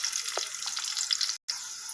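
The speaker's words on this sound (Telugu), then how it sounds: "పోపు వేగుతుందండి." Mustard seeds and other tempering spices fry in hot oil with dried red chillies and curry leaves for a gongura chutney, giving a light, close crackling sizzle with soft pops. A brief drop to silence interrupts it near the end.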